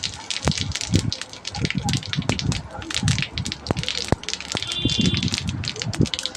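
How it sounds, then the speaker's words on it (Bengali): Cumin seeds and dried chilli tempering in hot oil crackle and pop in dense, irregular bursts, close and lively, and a voice speaks over the sizzling. "এবার একটু আমি জিরে ফোড়ন দিয়ে দিচ্ছি"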